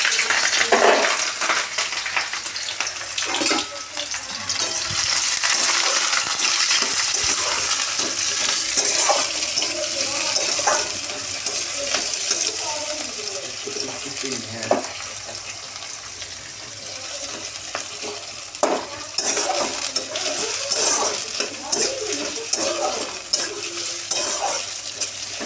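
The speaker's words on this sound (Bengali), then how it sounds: "এবারে কড়াইয়ে তেল দিয়েছি" Onions sizzle in hot oil in a wok, a loud continuous frying hiss broken by repeated scraping and clatter of stirring for nearly half a minute, with no talk.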